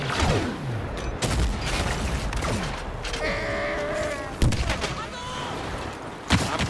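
Blaster fire in a Star Wars Battlefront heroes-versus-villains battle: sharp zapping shots crackle through busy battle noise. A few bursts stand out near the start and middle, and a louder shot lands near the end.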